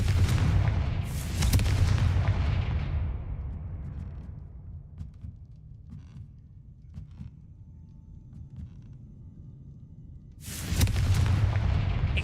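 Booming explosions from the Confringo blasting spell in the game Hogwarts Legacy: a loud blast rumbling away at the start, a quiet game interval with faint clicks, then another heavy burst at the end.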